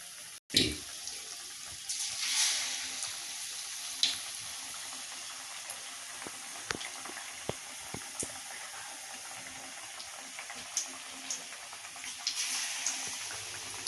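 Batter-dipped boiled eggs deep fry in hot oil for egg bonda, making a soft, continuous bubbling hiss with scattered sharp pops and crackles, fairly quiet and with no talking.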